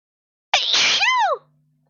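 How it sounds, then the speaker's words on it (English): One loud, close sneeze: a sharp inhaled catch, then a forceful burst that trails into a brief voiced tail before silence. "that was a big sneeze"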